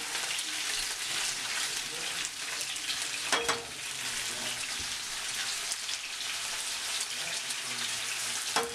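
Shrimp frying in a pan for tacos, a steady close sizzle with soft crackles and a few faint clinks as they are moved around, continuous throughout.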